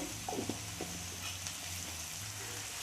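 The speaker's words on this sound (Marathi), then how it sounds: "व्यवस्थित छान परतून घ्यायचं आहे" Potatoes with turmeric frying in a pan, a continuous gentle sizzle and hiss with a few stirring knocks early on, close and quiet.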